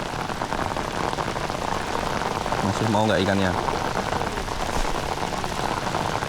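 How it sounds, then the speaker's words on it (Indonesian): Heavy stormy rain pours steadily on a surface while fishing for peacock bass, a dense close wash of drops throughout, with someone briefly speaking over it midway. "Hujan lagi, baru mau bagus hujan lagi."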